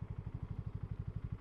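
A BSA Gold Star 650 motorcycle rides at a relaxed pace, its engine giving a steady, evenly pulsing low thump, close and fairly quiet.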